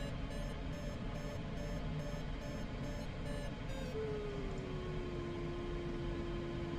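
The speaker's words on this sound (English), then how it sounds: "Getting some beeps here in these clouds" A glider's variometer in Microsoft Flight Simulator, flying in clouds over California and Nevada, gives a series of evenly spaced high electronic beeps, then falls silent as a faint sliding tone continues, all quiet under a low hiss with no talking.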